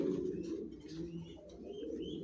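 Soft, low cooing of several racing pigeons in a loft, faint and continuous, with a bit of background rustle.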